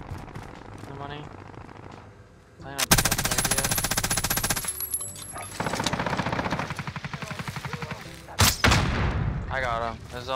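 MG82 machine gun fire in a Warzone close-range gunfight: long, loud, rapid automatic bursts with a sharp shot near the end, while players talk between and over the firing.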